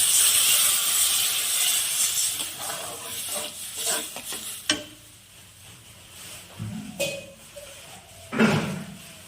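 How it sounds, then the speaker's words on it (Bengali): Water goes into a hot pan of tomato and plum fried with turmeric, bursting into loud hiss and steam that fades, with a few clanks and stirring knocks later. "এবার জল দিয়ে দিব।"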